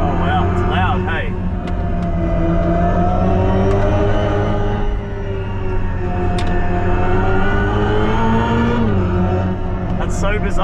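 A Hyundai IONIQ 5 N, a 650 hp electric car, driven hard while playing its simulated engine note, with loud rising and falling synthetic revs and abrupt drops as fake gears shift, under excited talk from occupants.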